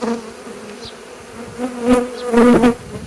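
Honeybees buzz densely at an open hive in a spring apiary, probably a swarm forming, a steady low drone that swells louder in two surges toward the end.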